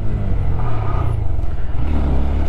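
A Honda MSX 125 mini motorcycle doing a combined front-and-rear braking test on flat ground, its engine a loud, steady close-up rumble that drops slightly in pitch as it slows, with no talking.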